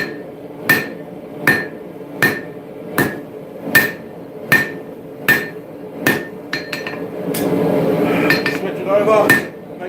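A hammer forges a railroad spike into an axe on an anvil, striking in a steady series of sharp, ringing metallic blows about one per second, followed by a quicker flurry of lighter hits mixed with scraping and clatter.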